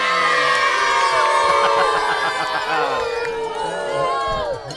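A crowd at a high school rivalry football game between Walker Valley and Cleveland High School cheers and whoops loudly and continuously, with many overlapping voices and shouts close by.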